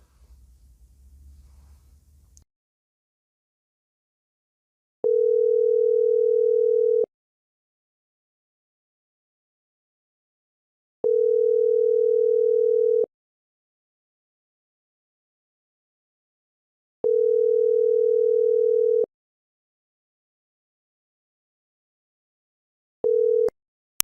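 A WhatsApp call ringing tone, a steady pure tone that sounds in two-second bursts with long silent gaps, repeating three times and then cut short on a fourth, after a brief faint rustle at the start.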